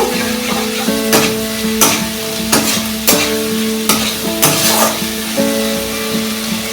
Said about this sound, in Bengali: এইবার আদা রসুন বাটাটা দিয়ে দিলাম দিয়ে দু থেকে তিন মিনিট এটাকে কষে নেব